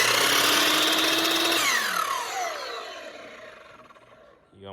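A wobbly Ridgid power saw cutting wood runs at full speed, then winds down with a falling whine, followed by a brief renewed whir at the end.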